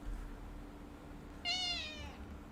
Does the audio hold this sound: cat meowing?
yes